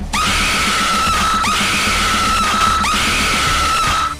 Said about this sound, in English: is a group of pigs being led to slaughterhouse.